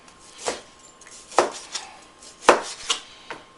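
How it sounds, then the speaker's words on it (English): Knife cutting fat from pork spareribs on a board: several separate crisp slicing strokes, close and fairly quiet, with short pauses between them. "So I trimmed the fat off."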